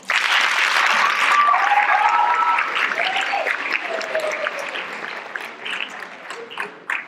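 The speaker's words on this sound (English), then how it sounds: "please a big round of applause for everyone." A crowd at a Shakespeare competition final applauds loudly, dense clapping that gradually thins and fades, with a few voices calling out underneath.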